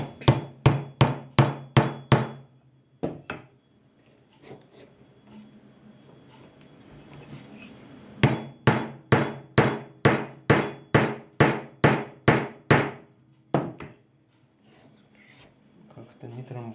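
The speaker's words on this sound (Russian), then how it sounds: "И забиваем, трамбуем его хорошенько с помощью нашей трамбовки." Repeated hammer-like blows tamp a homemade rocket charge with a rammer, coming in fast rhythmic bursts of about seven strikes, a pause, then a longer run of about twelve, loud and close.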